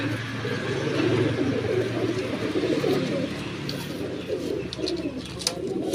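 Desi pigeons for sale in Bareilly, UP coo steadily, a low throaty warbling that continues close by, with faint chirps higher up and no talk.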